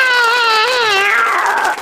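A high, wavering voice mimics a cat's drawn-out meow, sliding up and down in pitch for under two seconds, loud and close.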